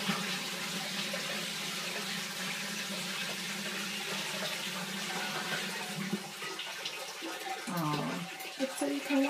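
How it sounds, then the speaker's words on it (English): Water runs steadily from the faucet on top of a Japanese toilet tank after a flush, a continuous trickling splash with a brief gurgle near the end and a person speaking. "Look, there's a faucet. Why is there a faucet?"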